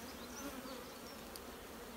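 Honeybees buzzing around an opened wooden hive while a colony is split to start a new hive, a steady dense hum from many bees close by with no talking.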